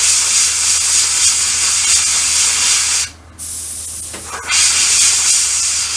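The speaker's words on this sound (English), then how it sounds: "So you got like a fairly low pressure, yep, high thinner to paint ratio, yep, and looks like your airbrush nozzle is pretty close to the surface of the model." An airbrush sprays thinned paint at low pressure onto a scale model of a WW2 German Sd.Kfz.251, a steady close hiss that cuts off briefly midway and then resumes, with no speech.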